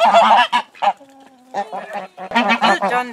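Geese honking loudly and repeatedly at morning feeding time on a farm with ducks, roosters and hens, in close overlapping bursts of harsh calls with short pauses between.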